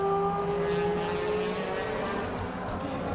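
A DTM race car pulls out of the pit lane at the 2010 Valencia round, its engine a steady nearby drone under crowd and track ambience, with a commentator talking over it.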